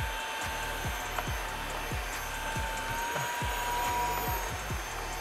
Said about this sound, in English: So to be fair, we're going to vacuum from the right side as well.